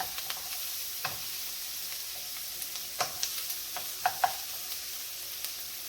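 Wooden spoon stirring keto cauliflower fried rice in a pan, with a faint steady sizzle under scattered soft scraping taps that cluster toward the middle and end.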